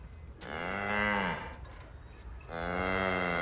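An ox in the video game Baldur's Gate 3 lets out two long, loud, close moos, the first swelling then fading and the second starting after a short pause, with no talk over them.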